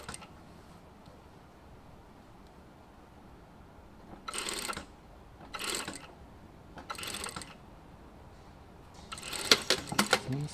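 Sewing machine stitching a double French bind runs in several short quiet bursts of rapid mechanical whirring, separated by near silence, with a longer, busier run at the end.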